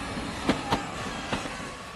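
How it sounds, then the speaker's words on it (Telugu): A passenger train starts to move off, heard as a steady low rumble broken by three distinct clunks spaced irregularly over two seconds. "ట్రైన్ స్టార్ట్ అయింది"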